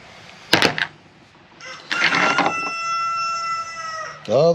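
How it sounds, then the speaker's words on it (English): A chicken, likely a rooster, lets out one long, loud drawn-out crow close by outdoors, after a few short scraping knocks, with another call starting at the end. "Ah, the wonderful chicken heard me."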